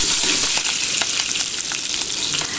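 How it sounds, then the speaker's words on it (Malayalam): Crushed garlic and green chillies sauté in a hot pan for prawn-head curry, giving a steady, close crackling sizzle with faint stirring clicks throughout. "ഒരു മൂന്നാല് വെളുത്തുള്ളി ഒന്ന് ചതച്ചത് ഇട്ട് കൊടുക്കുന്നുണ്ട് ഒരു മൂന്നാല് പച്ചമുളക് ഇട്ട് കൊടുക്കും ഒന്ന് വഴറ്റിയെടുക്കാം"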